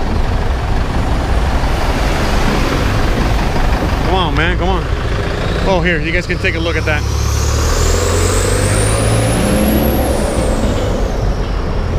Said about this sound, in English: It's a bunch of cars and buses and shit.